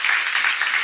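A church seminar audience applauds, a dense even patter of clapping that holds steady and loud through the short moment.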